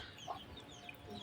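Village hens and roosters cluck softly at a distance, a few short calls spread over a brief, quiet farmyard moment with no talking.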